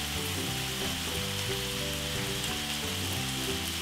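Meat frying in a pan, a steady dense sizzle with crackling spatter, close and continuous throughout, no voices.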